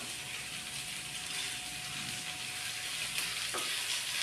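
Curry leaves sizzle in hot oil for a plantain thoran, giving a steady crackling fry throughout with a faint scraping stir near the end.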